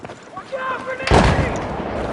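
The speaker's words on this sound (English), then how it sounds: "Watch out, grenade!" A grenade blast in Battlefield 4 on the Flood Zone map: a sudden loud, broadband boom that swells and rumbles away over about a second, following a brief stretch of quieter gunfire and game noise.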